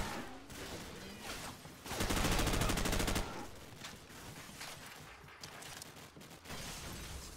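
An M4 rifle in Call of Duty 4: Modern Warfare fires a loud sustained automatic burst lasting just over a second, with scattered sharper shots and game effects around it.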